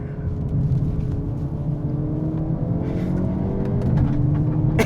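A 2024 Hyundai Elantra N holds its engine at high revs in first gear through a corner, a loud, steady, close cabin drone with a slight rise near the end.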